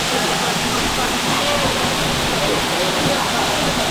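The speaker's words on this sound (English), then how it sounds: "that's the waterfall going down" Sheldrick waterfall in Shimba Hills pours down in a constant, dense roar of falling water, loud and unbroken throughout.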